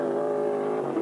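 A Supercars touring car on the Race Tasmania circuit passes on track, its engine a loud, steady, high-pitched drone that swells slightly at the end, with no talk.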